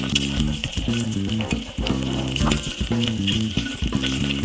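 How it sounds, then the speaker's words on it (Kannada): Boiled eggs fry in oil in a cooker for egg biryani, a close, constant sizzle with rhythmic scraping and tapping from stirring throughout. "ಇದು ಇವಾಗ ಕ್ಲೀನಾಗಿ ಫ್ರೈ ಆಗ್ತಾ ಇದೆ"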